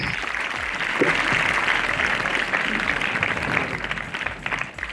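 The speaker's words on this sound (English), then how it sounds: "Give them a big round of applause." Audience at a school investiture ceremony applauds steadily, a dense wash of clapping that holds for the whole stretch before easing slightly at the end.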